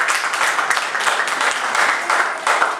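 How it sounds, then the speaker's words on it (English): Steady round of applause from an audience at a neighborhood association council forum in Waterbury, dense overlapping clapping held at an even level for a few seconds. "this was a round of applause"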